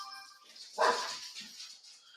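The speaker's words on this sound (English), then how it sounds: "Oh, the dogs don't like it." Dogs bark somewhere off at a distance, one brief bark rising out of a quiet background, followed by a fainter trailing yelp.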